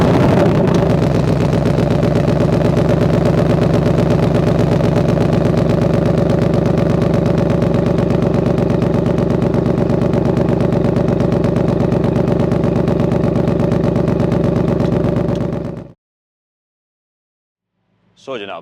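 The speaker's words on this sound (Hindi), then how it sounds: "आइए जी, इस गाड़ी को स्टार्ट कर लेते हैं और आपको इसका स्टार्टअप भी मैं दिखा देता हूँ।" A Ford Mustang GT convertible cold-starts and settles into a steady, loud, close-up idle with a deep rumble that runs unbroken for about fifteen seconds before cutting off abruptly.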